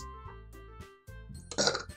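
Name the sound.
burp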